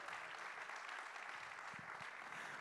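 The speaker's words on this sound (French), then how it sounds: "Allez, on les applaudit bien fort" Dense, continuous applause from an audience at an award ceremony, a steady even wash of many hands clapping, heard faintly as if from a distance.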